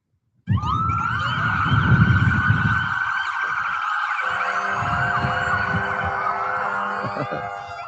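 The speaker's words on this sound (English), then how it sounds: "could you turn on your sirens for 2 to 3 seconds out there for us" Police and emergency vehicle sirens sound together outdoors during a short test run at a tribute to Mason County's first responders, several wailing tones starting abruptly and continuing loud and steady for several seconds.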